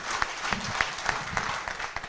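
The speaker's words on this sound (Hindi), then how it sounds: "इनके लिए जोरदार तालियां चाहूंगा मुझे" A crowd at a business gathering claps for a guest, a brisk round of applause with distinct sharp individual claps standing out above the steady clatter.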